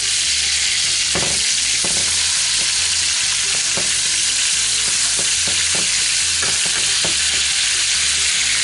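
Steak coated in Montreal seasoning fries in butter right after being flipped, giving a steady loud sizzle with scattered sharp spits and pops and a few clicks of a utensil in the pan.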